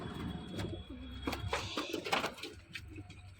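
Pigeons kept for sale coo repeatedly at close range, soft throaty calls rising and falling across a continuous bed of rustling and shuffling.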